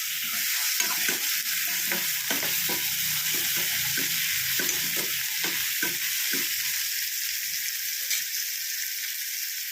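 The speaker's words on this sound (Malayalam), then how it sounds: "നമുക്ക് ആ നാരങ്ങ അരിഞ്ഞതങ്ങ് ഇട്ട് കൊടുക്കാം." Chopped lemon sizzles and fries in a pan while being stirred, a steady hiss with repeated scraping strokes of the spoon for several seconds, close and moderately quiet, no speech.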